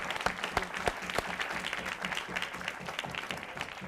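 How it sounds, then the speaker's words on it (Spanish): A studio audience at a live television interview show applauds for film director Claudia Llosa, a mix of sharp individual claps within a steady crowd clapping that runs throughout, with a voice faintly underneath. "Un aplauso para Claudia Llosa, por favor"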